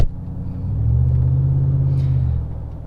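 A Chevrolet Silverado 5.3L V8 with a newly installed Edge performance programmer revs once, a deep rumbling engine swell that rises, holds for about two seconds and settles back to idle, close and without talk.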